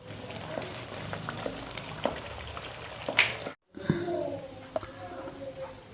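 Boiled turnips in a pan on the stove, cooking off their water: a soft, steady sizzle with faint bubbling and a few clicks and scrapes, broken by a brief silent gap.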